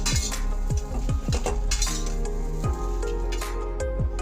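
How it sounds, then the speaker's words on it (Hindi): A metal spoon repeatedly scrapes and clinks against a kadhai as fried soya chunks are moved into another pot, producing a rapid series of close, sharp metallic taps over a steady low hum. "अब मैं इसे दूसरे बर्तन में निकाल लेती हूँ।"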